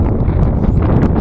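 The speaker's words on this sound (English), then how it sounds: "Starting to snow and get windy." Loud, blustery wind buffets the microphone in a steady low roar with gusty rumbling throughout, in cold weather as snow starts to fall.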